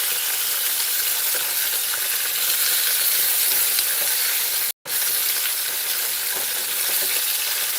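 Tamarind chutney cooks in a pan with a steady, loud frying sizzle that runs without a break, apart from one brief dropout midway. No voices are heard.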